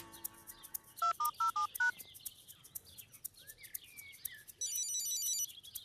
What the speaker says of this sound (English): I'll ring her on my new mobile phone.